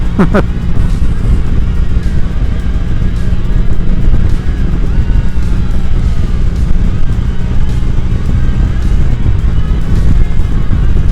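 A classic-style motorcycle with a 5-speed gearbox drones steadily while riding, with a constant low rumble and wind buffeting, loud and close throughout.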